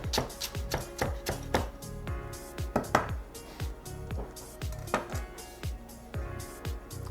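A knife chops rapidly and steadily through a peeled vegetable, slicing it into thin strips for frying, with crisp close-up board strikes in an even rhythm and no talking.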